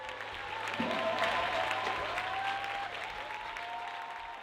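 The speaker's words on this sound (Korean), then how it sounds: "연주가 끝나자 관객들의 박수가 쏟아진다." Concert audience applauds after a Korean traditional music performance, a fairly quiet, continuous wash of clapping from a crowd heard at some distance, with faint tonal sounds underneath.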